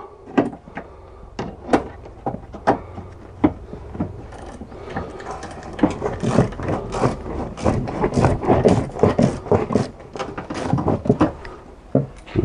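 Ratcheting clicks from a tool tightening screws on a Peugeot 207 headlight unit, sharp close taps and ratchet pawl snaps in uneven bursts, growing busier and denser in the middle before thinning out again.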